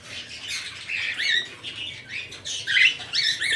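Pair of fallow cockatiels squawking and chirping in repeated shrill bursts, close and moderately loud, with a faint background hum.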